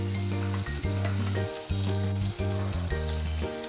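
Mixed vegetable gharge frying in hot oil give a steady, close sizzle and crackle, with a low background hum pulsing along beneath it.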